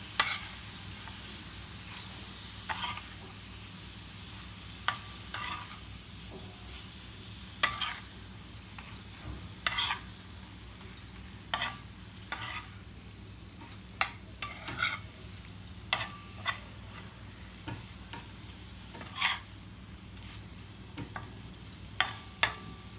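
Tawa chicken masala with chopped coriander being mixed in a pan, quiet clinks and scrapes of a spoon in an irregular rhythm over a soft background sizzle, no voices.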